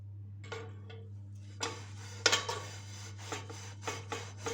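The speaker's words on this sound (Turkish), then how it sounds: "Şimdi ovalamaya başladık arkadaşlar." Scraping and rubbing on a blackened cooking pot caked with burnt grease, heard as a series of short, close scrubbing bursts that grow more frequent over a steady low hum.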